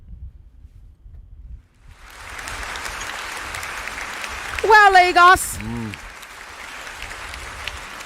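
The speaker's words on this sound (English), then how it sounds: "You both deserve another round of applause." Audience applause at the final of a student debate tournament, a dense burst of clapping rising after a quiet moment and carrying on steadily, with a voice briefly calling out over it.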